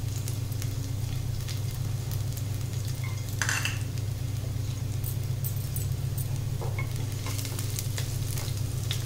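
Garlic cloves sizzle steadily in hot mustard oil in a pan, with a utensil stirring and scraping now and then, close and continuous under a low hum, with no talking.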